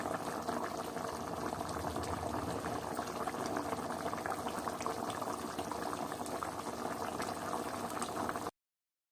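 Colocasia root kulambu, a spicy tamarind-style curry, boils in a pot with a continuous close bubbling and gurgling that runs steadily before cutting off abruptly.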